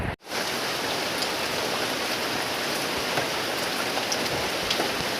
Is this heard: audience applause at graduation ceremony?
no